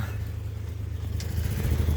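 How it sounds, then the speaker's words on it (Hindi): A tractor drives ahead along a farm track, its engine a steady low rumble and clatter heard from a short distance behind, continuous and moderately loud with no talking. "तो ये भाई साहब ट्रैक्टर आगे लेके जा रहे हैं, मैं इनके पीछे पीछे।"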